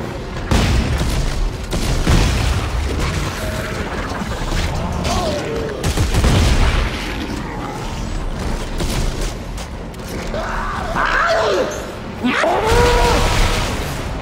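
Deep booms and rattling blasts go off during Dead Space 3 co-op play as an enemy's claw blows up both players, with repeated heavy bursts across the stretch. Voices talk over the game sounds.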